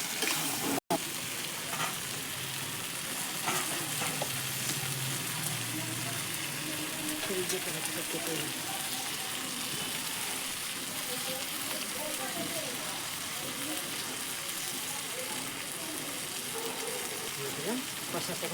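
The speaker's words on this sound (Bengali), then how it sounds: "একটু সঙ্গে দিয়ে ভেজে কষিয়ে নেব।" Goat meat curry frying and being sautéed in a pan, a dense, continuous sizzle that holds steady throughout, close and fairly loud.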